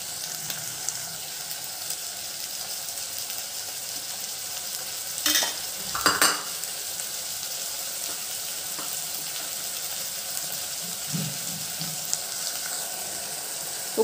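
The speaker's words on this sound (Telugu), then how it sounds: "ఈ టమాటాలు కూడా నేను యాడ్ చేసుకుంటున్నాను।" Chopped tomatoes fry and get stirred in a curry pan for a brinjal, potato and egg curry: a steady close sizzle runs throughout, with a couple of brief scraping stirs near the middle.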